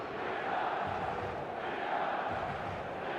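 A dense, steady roar from a virtual stadium crowd in the football video game eFootball, a continuous wash of distant cheering without distinct voices or breaks.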